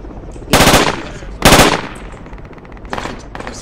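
Automatic gunfire in the military shooter Project Reality, with two loud close bursts of rapid rounds followed by a fainter, more distant burst and scattered shots.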